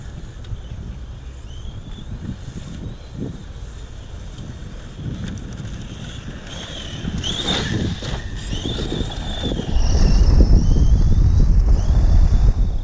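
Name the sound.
wind blowing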